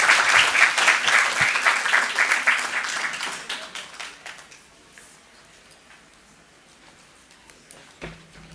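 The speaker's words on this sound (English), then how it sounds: "One more round of applause for everyone getting a presentation tonight." Applause at a city council meeting for presentation recipients, a crowd clapping briskly at first, then thinning out and fading to a few scattered claps and quiet room tone by the end.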